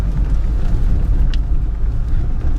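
A Hyundai Tucson drives off-road on a muddy track after days of rain, in third gear at about 40 km/h. A steady, loud low rumble of engine and tires is heard from inside the cabin, with no talking.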